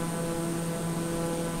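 A TBM 930 turboprop in Microsoft Flight Simulator drones steadily from the cockpit, a constant engine hum with a fixed tonal whine layered over broadband rush, unbroken and moderately loud.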